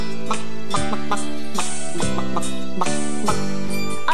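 A voice mimics a hen's clucking in a bouncy, sing-song rhythm, repeated phrases over steady musical accompaniment.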